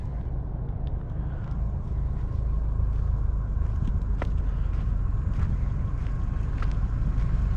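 Lifted Subaru off-road car driving on sand, heard as a constant low engine and tire rumble from inside the cabin with faint rattles and small knocks, steady and moderately loud.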